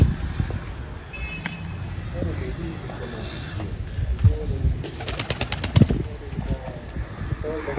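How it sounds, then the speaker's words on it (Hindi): Fantail pigeons coo with low, soft throaty calls and a few wing flutters close by, while someone talks over them almost throughout. "ये लक्के कबूतर है"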